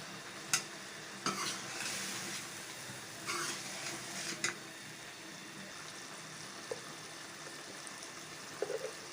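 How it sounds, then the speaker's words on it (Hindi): Zucchini and boiled beef with red chilli, turmeric and salt stir-fry in a pan, a steady soft sizzle broken by a few scraping stirs of a spoon, close by with no talking. "तोरियां और गोश्त अच्छी तरह भून लेना"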